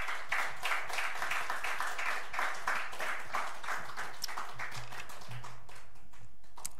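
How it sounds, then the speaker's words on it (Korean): A church congregation claps together in a steady, rhythmic burst of welcoming applause for a speaker that gradually thins out toward the end. "우리 환영의 박수로."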